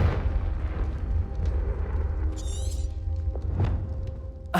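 A fire-spell blast in a video game erupts as a loud, rumbling burst that sustains for several seconds, with crackling debris and a sharp second impact near the end.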